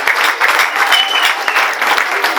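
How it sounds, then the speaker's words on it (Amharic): A church congregation claps together in praise, a loud sustained burst of dense hand-clapping with sharp individual slaps, close and continuous, no voices standing out. "አጨብጭቡ ለጌታ ክብር"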